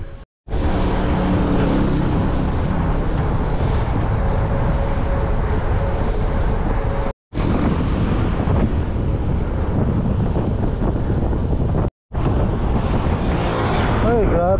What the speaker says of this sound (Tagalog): Lakas ng hangin, hirap po madyak.